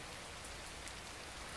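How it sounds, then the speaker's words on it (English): Steady rain on a rainy day in Georgia, a dense, even patter of drops on surfaces, heard close and unbroken with no voices. "Yeah, it's been raining like this for hours."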